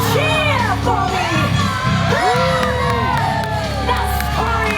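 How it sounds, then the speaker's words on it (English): An audience at a Disney Hollywood Studios show cheers loudly, with shouts, whoops and high yells from children and adults rising and falling continuously over a constant crowd roar. "Cheer for me."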